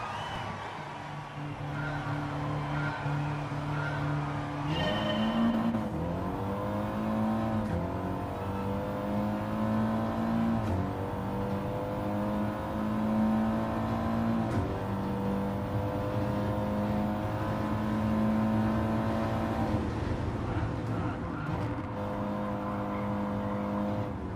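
Group 4 race cars racing at Suzuka in the video game GT Sport, a continuous loud engine drone from the pack with rising and falling pitch through gear shifts and passing cars, sustained throughout.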